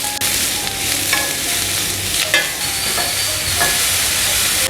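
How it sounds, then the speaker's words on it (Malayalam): Onions sautéing in a pan with salt, ginger and garlic for a squid roast, a loud continuous sizzle with spatula scrapes and clinks close by, no speech. "ഇനി നമുക്ക് നമ്മുടെ സവാളയെ നല്ലപോലെ വഴറ്റിയെടുക്കാം."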